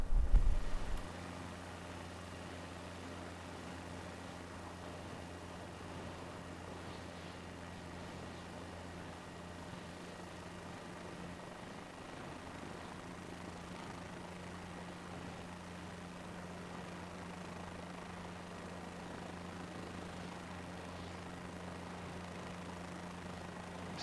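Helicopter in Microsoft Flight Simulator 2024 lifting off the skids into a low two-foot hover, a steady droning rotor and engine hum that holds evenly throughout, fairly quiet with no talking.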